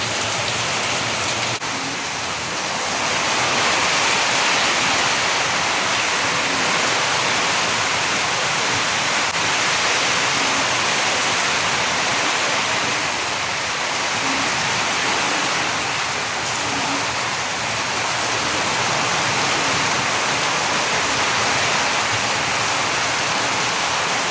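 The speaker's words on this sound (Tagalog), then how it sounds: "nakakatakot ang bagyo" Heavy rain from Typhoon Kristine pours steadily in Camarines Norte, a dense, loud hiss of drops hitting surfaces that swells and eases slightly with the wind gusts and never stops.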